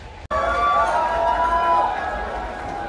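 An Amphi-Festival 2023 audience calls for an encore: a loud, dense crowd roar with sustained chanting voices kicks in abruptly and holds steady throughout.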